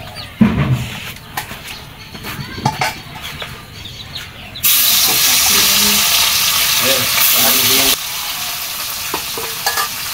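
Small puti fish going into hot oil in a home kitchen: a few scraping, clattering stirs first, then a sudden loud, steady sizzle and crackle of frying that continues close up to the end.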